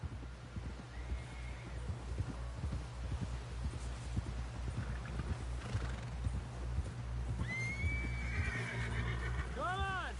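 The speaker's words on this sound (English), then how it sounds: "Someone help John down off this horse." Video game horse in Red Dead Redemption 2: steady clip-clop of hooves under talking voices, then a loud close whinny near the end.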